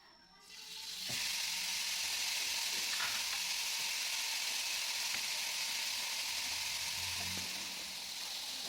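Fish grilling on a grill pan gives a loud, steady sizzle and hiss that rises suddenly after a second and holds close and continuous, with a few faint clinks and no voices.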